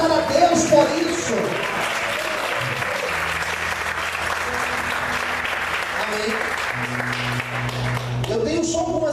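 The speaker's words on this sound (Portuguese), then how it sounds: "Você pode aplaudir e exaltar a Deus por isso." Sustained applause from a church congregation fills the room for several seconds, steady and broad, with a pastor speaking over it and music tones beneath.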